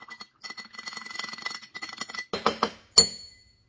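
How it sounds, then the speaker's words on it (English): A spoon stirs a Hennessy, honey and lemon juice drink in a glass, giving a quick run of light clinks and taps against the glass, then a few louder knocks and one sharp ring near the end. "Let's give it a stir."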